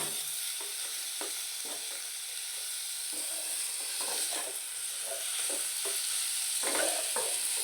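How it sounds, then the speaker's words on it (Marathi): Broccoli stems being sautéed in a homemade spice masala, with a steady sizzle and repeated stirring scrapes in the pan, close and fairly loud throughout. "ब्रोकोलीचे जे मागचं आपण कापून घेतलं होतं ते आपल्याला ह्या मसाल्यामध्ये परतून घ्यायचं आहे"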